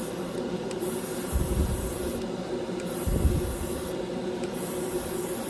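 A cordless battery-powered airbrush sprays lacquer paint onto a scale model, giving a soft, steady hiss with brief airy bursts, close and quiet throughout.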